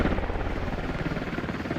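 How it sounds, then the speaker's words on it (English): A US helicopter descending slowly for a resupply in the video game Squad, with a loud, steady rotor thrum that pulses rhythmically for the whole moment, close and alone. "US helicopter coming down slowly for resupplies."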